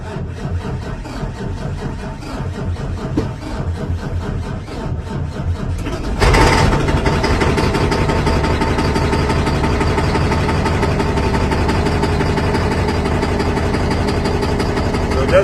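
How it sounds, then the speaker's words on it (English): A 2009 Kenworth T800 semi truck's big diesel engine, which has a knock, clatters as it turns over, then roars up and settles into a loud, steady rumbling idle. "so we're going to try starting it."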